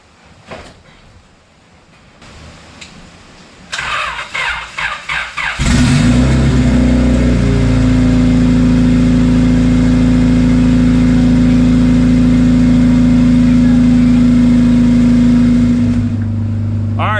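A Honda Civic with a turbocharged D16 engine, hooked to a jump box, cranks briefly, then fires and settles into a loud, steady, close-up idle that holds for well over ten seconds, with faint voices before the start.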